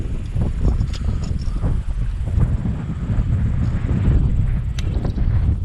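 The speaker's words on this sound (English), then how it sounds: "It's a windy one today." Strong wind gusting across a lake on a kayak bass fishing outing, roaring steadily as heavy low rumble and buffeting against the microphone, continuous and loud throughout with no talk.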